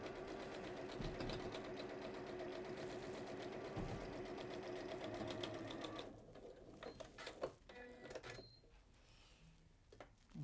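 A quiet, close sewing machine stitches a straight line through the centre of a pastel hexagon quilted purse, humming steadily for about six seconds before slowing and stopping with a few scattered clicks.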